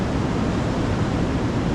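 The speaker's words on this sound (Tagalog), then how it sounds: "Pag ganito kalakas ang alon, pero pwede maglakad." Strong waves break on the shore at Zambales, Philippines, making a loud, unbroken roaring wash of surf with no voices.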